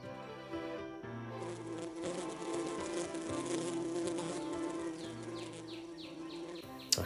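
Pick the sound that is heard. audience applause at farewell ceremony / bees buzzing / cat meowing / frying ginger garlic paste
bees buzzing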